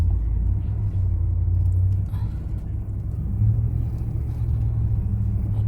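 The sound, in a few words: truck driving on a sandy beach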